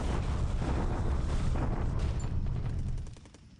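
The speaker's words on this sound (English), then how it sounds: "our daily Clark bombardment" Bombardment in the War in the Pacific strategy game: a steady, rumbling roar of distant explosions and artillery-like blasts holds evenly, then fades over the last half-second.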